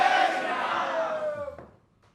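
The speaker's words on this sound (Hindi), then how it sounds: "एक बार फिर जोरदार तालियां धीरेंद्र कृष्ण शास्त्री जी के लिए।" A live stage event for Dhirendra Krishna Shastri, with an audience breaking into a loud roar of crowd cheering and shouting that fades away within about two seconds.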